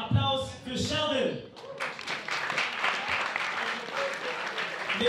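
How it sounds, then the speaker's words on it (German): Audience applause rises at a breakdance battle after a brief stretch of speech at the start, the clapping then filling the rest at a steady moderate level. "Applaus für Sheldon."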